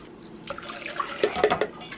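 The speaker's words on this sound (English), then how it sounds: "I'm going to pour this right in a saucepan," A liquid mixture of coconut milk, water and agar poured from a blender jar into a saucepan, soft splashing and gurgling that builds into a few louder sloshes, close and fairly quiet.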